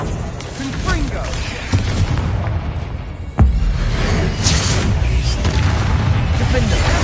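A Confringo fire blast spell explodes in the Hogwarts Legacy video game, a sharp boom mid-clip over continuous game ambience and combat rumble.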